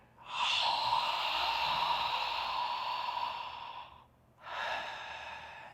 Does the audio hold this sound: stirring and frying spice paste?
no